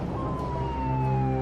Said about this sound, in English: On shore, 35 ambulances rush the wounded to nearby hospitals.